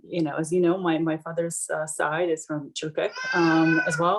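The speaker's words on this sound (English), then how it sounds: "that's a cat in the background" A cat meows several times in the background while a person speaks continuously over it, the cries partly masked by the voice.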